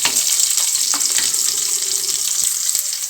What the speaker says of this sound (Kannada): ಇದು ಈರುಳ್ಳಿ ಚೆನ್ನಾಗಿ ಫ್ರೈ ಆಗಬೇಕು ಸೊ ನೋಡಿ ಈರುಳ್ಳಿ ಫ್ರೈ ಆಗಿದೆ